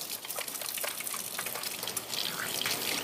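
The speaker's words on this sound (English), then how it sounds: "Let me wash my hands." Tap water runs steadily into a sink while hands are washed beneath it, a continuous close splashing gush lasting a few seconds with no talking.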